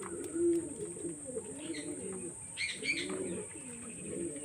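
Pigeons coo in soft, repeated low rolling calls from nearby, a few birds overlapping across the whole stretch, with faint chirps above them.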